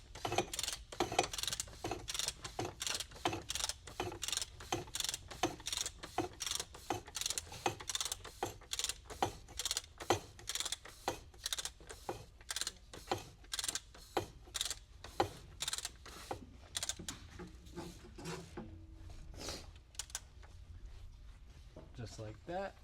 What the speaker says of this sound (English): You grab your ratchet, tighten it down.